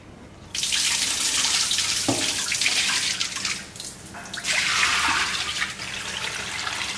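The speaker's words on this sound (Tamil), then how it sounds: "இந்த தண்ணி வந்து நல்லா பளிச்சுன்னு ஆகிற அளவுக்கு நல்லா கழுவிக்குங்க." Pieces of mutton are washed under running tap water, which pours steadily and loudly at close range, rising and falling as the meat is turned by hand.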